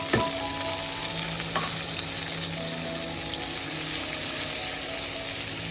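Onion and green chillies fry in a pan in a village kitchen, a loud continuous sizzle with occasional scraping stirs close up.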